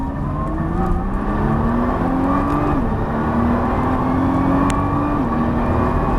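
A Nissan GT-R engine roars steadily on the track at Dreux and climbs in pitch as it accelerates, with a brief drop at a gear change before rising again; loud and continuous.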